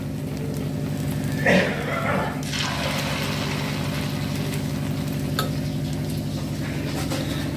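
Batter poured into a hot pan frying with a continuous close sizzle and crackle, joined by a brief louder splatter early on and a few faint clinks, with no talk.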